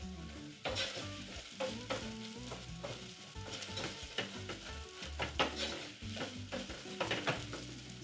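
Cumin powder, chili powder and turmeric toast in a pan for salmon curry, giving a steady sizzle broken by repeated scraping stirs of a utensil against the pan, close and fairly quiet.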